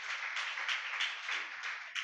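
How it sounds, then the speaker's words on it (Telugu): Congregation at a church service clapping together, a continuous close wash of hands beating in loose pulses for about two seconds, with no voices over it. "చప్పట్ల గట్టిగా చెప్పండి."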